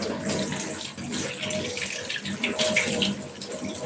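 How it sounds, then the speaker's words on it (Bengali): Tap water runs steadily into a sink while leaves are washed by hand in a home kitchen, a continuous close splashing rush with small fluctuations and no talk. "চলো পাতাগুলো ধুয়ে নিই ভালো করে"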